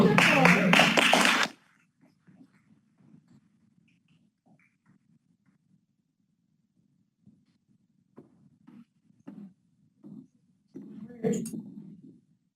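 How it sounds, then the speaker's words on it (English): Audience applause at a live evening presentation: a loud burst of clapping from a crowd that stops abruptly after about a second and a half, leaving near silence with scattered faint shuffles and small noises. "let's give him another big round of applause"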